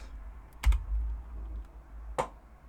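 Keys on a computer keyboard click in two or three sharp, separate taps against a quiet room background, with no talking.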